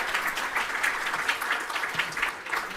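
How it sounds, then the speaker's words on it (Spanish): An audience at an academic medical lecture applauds in a dense, steady patter of many hands clapping together, moderately loud and unbroken for a few seconds. "Un fuerte aplauso"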